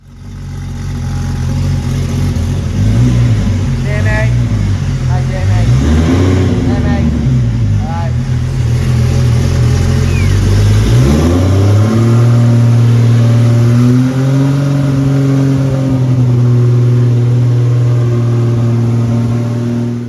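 Heavily modified all-wheel-drive Nissan S13 street car with a turbo engine revs hard and loud, up close, climbing through repeated throttle blips before holding a sustained high-pitched roar with audible gear changes.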